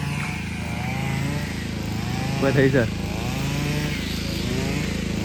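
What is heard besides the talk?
tractor ploughing a field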